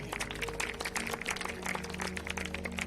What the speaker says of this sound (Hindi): ताली मारे परमेश्वर के